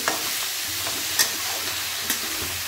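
Ginger and onion fry in hot oil for mutton tangri soup, a steady close sizzle broken by a few sharp scraping stirs of the spoon in the pan.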